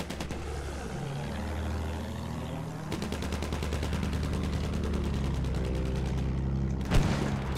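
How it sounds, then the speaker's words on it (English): Rapid machine gun fire aimed at a blimp in Battlefield 1, a dense run of sharp repeated shots that grows busier midway, with rumbling engine noise beneath and a louder burst near the end. "I don't think this machine gun does much damage to the blimp."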